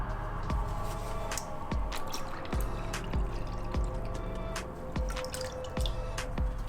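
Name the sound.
old coolant dripping out of motorcycle reservoir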